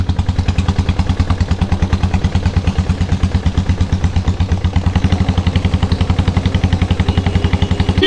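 Diesel Bullet motorcycles set off on a group ride with a loud, close, steady chugging thump, fast even pulses throbbing throughout without any talk.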